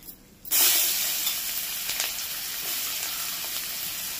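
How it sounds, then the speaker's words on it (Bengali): Chopped onion dropped into hot oil with bay leaf and whole garam masala, erupting into a sudden loud, bright sizzle that holds steady with small crackles, close and without talk. "এবার এর মধ্যে দিয়েছি পেঁয়াজ কুচি"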